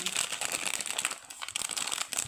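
Plastic packaging from a large Lasunka ice cream cup crinkles and rustles steadily as it is unwrapped close up, a dense crackly texture with no voices.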